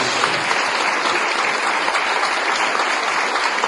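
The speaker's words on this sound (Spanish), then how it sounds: "Démosle un aplauso al Señor en esta mañana" A church congregation claps together for God during a morning service, a dense, steady wash of many hands that stays loud and even from start to finish.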